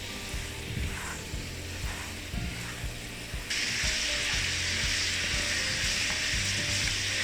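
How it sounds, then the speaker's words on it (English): Sweet and sour ribs sizzle in a pan on high heat as the sauce reduces and thickens, a steady loud frying hiss that grows stronger partway through, with faint scraping from stirring. "Now we'll turn the heat up to high heat and aggressively thicken the sauce."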